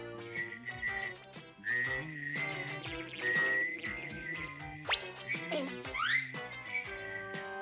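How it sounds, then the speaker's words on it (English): Someone whistles a bright, wavering melody over a bouncy cartoon music backing, with sliding pitches and a few playful swoops. "Wanna hear me whistle?"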